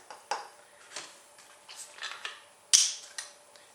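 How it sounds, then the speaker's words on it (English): A whisk clicks and taps against a pot as butter chunks are worked into a lemon sour cream pie filling, giving irregular metallic knocks with one sharper clang near the end, no talking. "Now I'm going to whisk in 1/4 cup of butter."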